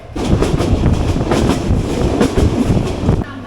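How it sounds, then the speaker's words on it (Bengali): A train arriving at Kaunia railway station rumbles steadily close by, with rhythmic clattering of wheels over rail joints, loud throughout before easing slightly at the very end. "এই মুহূর্তে ট্রেন এসে পৌঁছাইল কাউনিয়া রেলওয়ে স্টেশনে"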